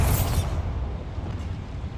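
Bombarda explosion spell going off in Hogwarts Legacy: a sharp loud burst at the start that decays into a lingering low rumble and debris-like clatter, with no voices.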